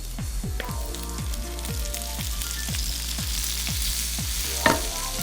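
Fresh spinach sizzles and fries in a pan, with a steady crackle broken by regular rhythmic stirring scrapes about every half second, fairly quiet and close with no talking.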